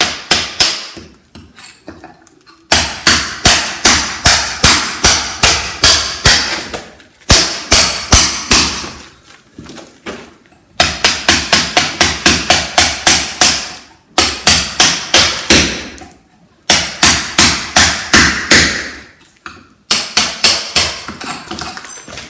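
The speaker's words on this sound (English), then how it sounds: "chisel, and I'll just go around the edge." Hammer and chisel cutting around a metal back box in a stone wall: bursts of rapid sharp metallic strikes, each run of blows fading slightly, separated by short pauses, close and loud.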